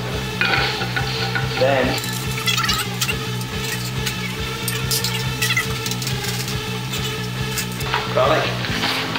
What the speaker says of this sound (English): Next we melt some butter.